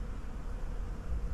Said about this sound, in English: the bees are just hanging out all over the pine needles